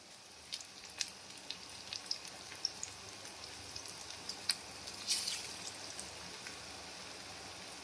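Onion fritters (peyaji) frying in oil, a faint steady sizzle with scattered soft pops and crackles throughout, one slightly louder burst of spatter near the end.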